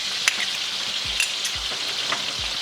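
Ginger garlic paste fries with translucent onions for a kofta mutton biryani, giving a steady, bright sizzle with a few soft scrapes of a stirring spoon, close and without talk.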